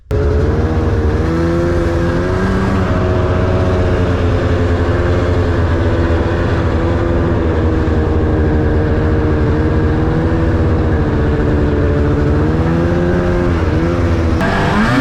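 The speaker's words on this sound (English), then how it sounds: "what is riding a snowmobile?" A snowmobile engine drones loud and close throughout a ride, holding a steady rough hum with gentle shifts in pitch as the throttle varies, no talking over it.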